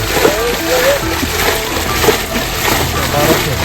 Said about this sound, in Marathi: पाणी आता कमी करायचं आहे ही एक मशीन लावली